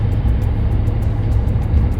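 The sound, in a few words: self-driving car driving off with passengers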